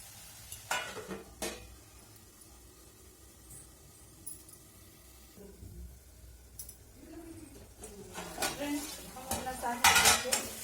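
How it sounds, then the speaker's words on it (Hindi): Methi saag, fenugreek greens with crushed peanuts, stirred in a metal pan: a few scraping, clinking spoon strokes against the pan spread across the stretch, louder near the end, with faint sizzling underneath and no talk. "साग को ज्यादा से ज्यादा 5 या 6 बार चला के साग बनाना चाहिए।"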